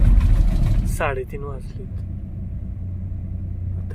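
A car rolls along a road toward Mumbai in the small hours, its low engine rumble steady beneath a voice speaking over it.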